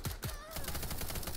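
Repeated gunshots in a VR shooter match crackle in a fast, dense stream, heavily compressed and fairly quiet, with a brief tonal game sound midway.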